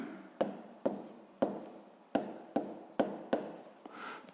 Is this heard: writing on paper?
yes